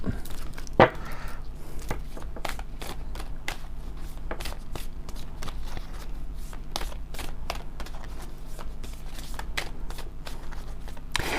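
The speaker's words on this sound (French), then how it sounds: "On va prendre une carte de magie pure." Oracle cards are shuffled and drawn by hand, giving soft, quick papery flicks and riffles in a steady scattered rhythm, close by and fairly quiet, with one sharper tap near the start.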